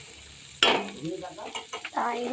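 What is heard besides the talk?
chopped onion frying in hot oil with cumin and bay leaf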